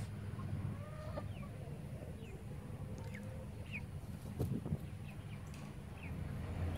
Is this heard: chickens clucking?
yes